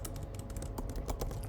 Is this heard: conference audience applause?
no